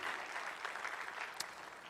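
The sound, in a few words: audience applause for graduates' parents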